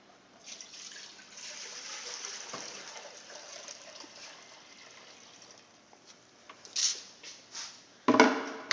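Tinted water pours and trickles into a clear container, a steady soft stream followed by louder splashes and gushes near the end.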